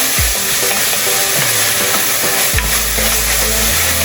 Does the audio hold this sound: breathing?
no